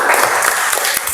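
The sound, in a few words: applause for group 2 in a classroom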